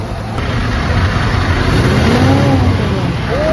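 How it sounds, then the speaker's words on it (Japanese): A current Scania truck with a stock V8 engine runs steadily nearby, a loud, even mechanical rumble with a faint rising whine, sounding fairly quiet and smooth for its size. "横尾さん、すいません、あの V8 のエンジンの音を聞きたい"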